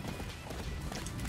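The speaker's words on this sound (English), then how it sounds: "the best way to get around is on the horse" Horse hooves galloping in the video game Attack on Titan, a quick, continuous run of muffled hoofbeats under thick, loud game noise.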